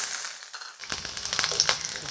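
Fennel seeds and masala sautéing in a hot pan for a chicken filling, a bright crackling sizzle that starts abruptly after a brief lull, with small stirring scrapes, close and without speech.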